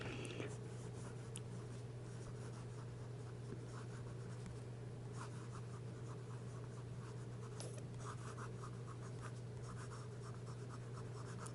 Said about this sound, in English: Now, we'll get on with some writing.